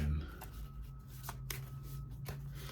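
A short burst of tarot cards being shuffled, soft riffling with a few crisp flicks, close and quiet.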